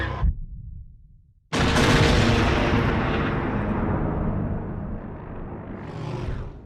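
A seismic charge detonates in The Mandalorian as the bomb drops from a starship's cargo bay. There is a brief thump, a short hush, then one loud, sustained roaring blast that rings on and slowly fades, with no voices.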